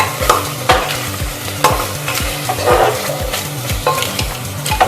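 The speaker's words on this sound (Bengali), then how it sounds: "যতক্ষণ না তেল ছেড়ে বেরিয়ে আসছে আমি ততক্ষণ কষতে থাকবো।" Mutton rogan josh sautés in oil as a spatula stirs and scrapes the pan in loud, regular strokes about every half second, with a constant sizzle underneath and no voices.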